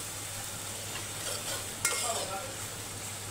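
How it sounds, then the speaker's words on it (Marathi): Spice masala for kali rassa roasts in a pan, a quiet, steady sizzle with soft stirring and one sharp scrape or clink near the middle. "इकडे काळी रशीला मसाला भाजतोय"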